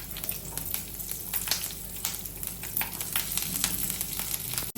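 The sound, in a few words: green chillies frying in oil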